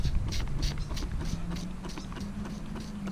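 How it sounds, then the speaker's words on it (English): A hand-pumped spray bottle squirts in quick, steady repeated bursts, each a short hissy spritz, close and fairly quiet, while spraying parts of a GMC Sonoma pickup being rebuilt. "hand's gonna get tired quick pumping this spray bottle"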